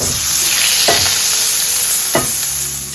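A knob of butter sizzles loudly in a tablespoon of oil in an iron skillet, a dense, close, continuous hiss with a couple of brief stirring scrapes.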